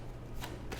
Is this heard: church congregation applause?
no